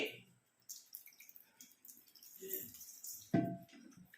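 Water running from a drinking-water filter tap, an uneven splashing trickle with drips and a louder gush near the end, while a person talks.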